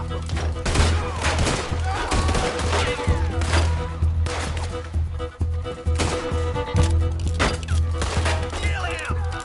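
Sustained rattling gunfire in Red Dead Redemption 2 as a Gatling gun opens up, a dense stream of shots over a low rumble and layered game ambience, with a voice talking briefly underneath.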